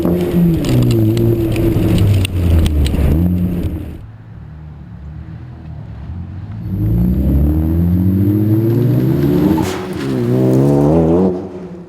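A Ford Focus ST on sticky NT01 tires with an xFlex driver side motor mount revs and accelerates on a gravel driveway, loud engine surges rising and falling with a quiet gap between pulls.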